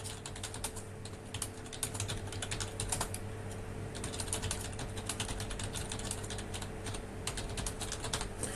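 Someone types on a computer keyboard while entering a call description into dispatching software, a steady run of close clicking keystrokes with brief pauses.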